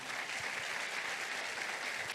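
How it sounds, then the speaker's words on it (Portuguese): A church congregation applauds a family called up to the front, a steady wash of many hands clapping together, sustained and fairly even throughout with no voices standing out. "queria que você desse uma salva de palmas a essa família"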